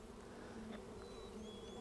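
A honeybee colony in a hive, with the brood area expanding in spring, gives a dense, continuous close buzzing hum that holds steady with no voices.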